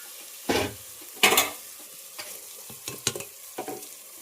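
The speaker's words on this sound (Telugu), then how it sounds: "చికెన్ ముక్కలు అయితే మనకి ఈ విధంగా బాగా రోస్ట్ అయినాయి కదా, ఒక పక్క బాగా ఫ్రై అయినట్టు ఉన్నాయి." Chicken pieces roast in a pan, with a soft sizzle underneath and several sharp bursts of stirring and scraping that come at irregular moments.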